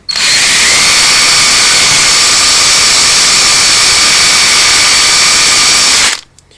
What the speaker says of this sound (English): these cordless drills with a brush is brilliant for if you have got stubborn chunks of sealant and whatnot to get off